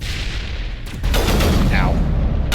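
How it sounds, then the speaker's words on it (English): Gunfire from a firefight in the video game Mass Effect, a steady dense rattle of rapid shots filling the clip at moderate distance, growing louder after the first second. "who are they shooting at?"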